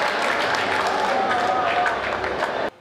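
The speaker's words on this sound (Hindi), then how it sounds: "एक बार मेरे अपमान में और उनके सम्मान में ताली बजाइए" An audience at a Hindi comedy poetry show claps steadily in a dense, sustained round of applause for about two and a half seconds before it cuts off abruptly, with faint voices mixed in.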